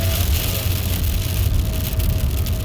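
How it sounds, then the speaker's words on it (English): Rain starts to fall outdoors, a dense hiss of drops spread evenly throughout, mixed with a low rumble and a faint steady tone. "It's starting to rain"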